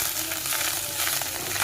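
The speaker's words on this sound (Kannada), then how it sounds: "ಸ್ವಲ್ಪ ಎಣ್ಣೆಗಳು ಫ್ರೈ ಮಾಡ್ತೀನಿ" Chopped amaranth greens fry in oil in a kadai, giving a steady, dense sizzle that crackles throughout at close range with no talking.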